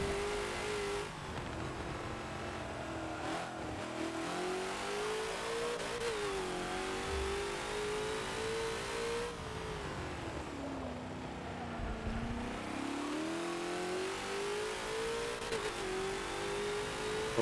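A GT40 race car engine in Forza on the old Mulsanne layout at Le Mans, droning steadily at high revs with pitch rising through gear changes and dipping on shifts, loud and continuous, with no voices.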